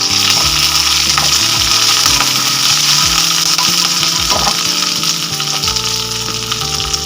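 Loud, dense sizzling and crackling as horse gram roasts with ginger in a hot pan, with a stirring spoon scraping at intervals and no voices.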